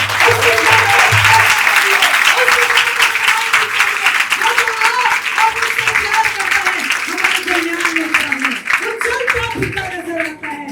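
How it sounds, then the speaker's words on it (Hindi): A church congregation at an Easter night meeting applauds loudly and steadily for about ten seconds, dense clapping filling the space while a voice carries on over it. "हम जोरदार तालियां बजाएंगे।"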